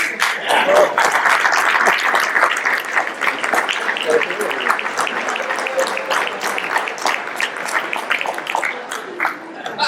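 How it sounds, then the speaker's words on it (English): Audience at a Serra International delegates' convention breaks into sustained applause, dense clapping carrying through most of the stretch with crowd murmur underneath, close and loud, easing slightly near the end. "Big round of applause."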